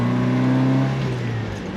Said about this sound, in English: The motor just sounds so crisp and clean, like it's been rebuilt.